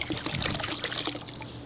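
Water trickling and dribbling from a threaded fitting on an in-ground pool skimmer during a spring pool opening, a steady close, wet splashing flow with no voices.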